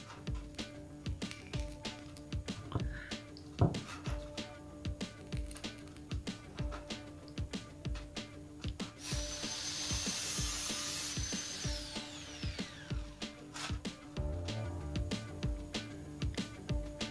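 Cutting and working on a hollow light-steel ceiling frame with PVC panels produces a run of sharp, irregular knocks and clicks close by, with a steadier whining grind for a few seconds in the middle.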